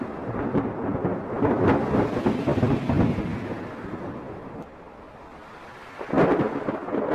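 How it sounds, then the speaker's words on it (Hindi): Rain falls steadily in a forest during the rainy season, and rolling thunder rumbles loudly through it, fades into a quieter lull, then cracks again near the end. "उनके लिए यह पहली बारिश थी जो उन्हें किसी अजूबे से कम नहीं लग रही थी"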